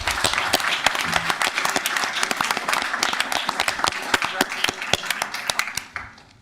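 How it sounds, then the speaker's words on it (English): Applause fills a commission meeting room, with many sharp, distinct hand claps at close range rattling on steadily for several seconds before tapering off abruptly at the end. "Let's give them one last round of applause."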